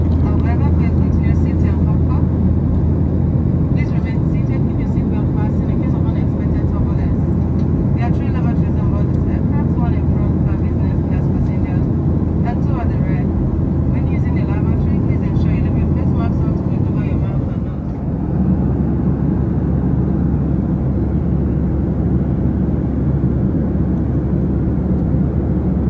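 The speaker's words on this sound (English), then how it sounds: "I think the pilot has reached the cruising altitude for the aircraft, and we are still cruising." Steady, loud airliner cabin drone during cruise on a domestic flight from Abuja to Kano, a continuous low rumble filling the whole stretch with a brief dip near the end.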